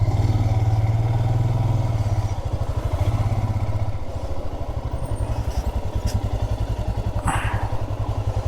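A motorcycle engine idles close by with a steady low throb and rapid pulsing exhaust beats while being parked outside a café in Tabo, with brief clatter near the end.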